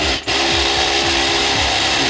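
A loud pachinko machine's bottom vibration motor gives a steady mechanical whir with a low rhythmic thumping pulse underneath, vibrating hard, continuous throughout with no talking.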